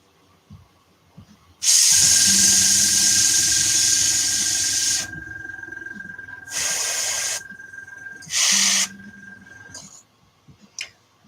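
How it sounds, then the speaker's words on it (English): Airbrush spraying paint onto art dolls, a loud steady hiss lasting several seconds, then shorter hissing bursts with pauses, a faint tone running beneath and small clicks around it. "I'm just airbrushing some art dolls"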